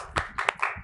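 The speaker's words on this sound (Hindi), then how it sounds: "तालियां बजाओ पवन भैया जी के लिए" A few sharp hand claps from a small class of children honouring a classmate named Pawan during a Brahmi script lesson, four quick separate bursts close by.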